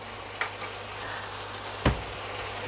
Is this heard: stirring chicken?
yes